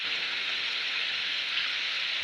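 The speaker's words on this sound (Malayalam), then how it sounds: "നല്ല ശക്തമായ മഴ പെയ്യുന്നുണ്ട്." Heavy monsoon downpour in Kerala pours steadily in a dense, even hiss with no breaks, loud and close.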